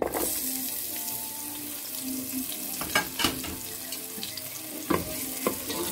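Onions sizzling in hot oil in a pan for Nigerian fried beans, a loud steady frying hiss up close with a few sharp spatters and stirring knocks, no one speaking.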